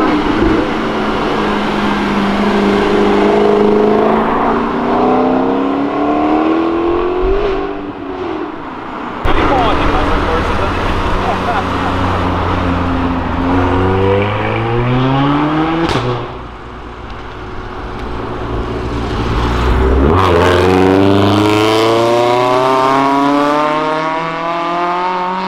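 Cars on a city avenue downshifting and revving loudly, engines sweeping up and down in pitch as they pass close by one after another, including one sounding like a noisy Honda Civic Si; a voice talks in the background.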